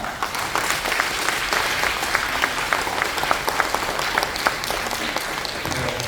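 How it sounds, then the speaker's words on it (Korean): Steady, dense applause from a church revival-meeting congregation welcoming a pastor to the pulpit, sustained and even for several seconds with scattered sharper claps and no talking. "나오실 때 큰 박수로 환영해 주시기 바랍니다"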